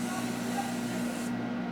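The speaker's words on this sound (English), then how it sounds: "this Morphe setting spray," Morphe setting spray hisses in a steady continuous mist, faint and close, cutting off abruptly near the end.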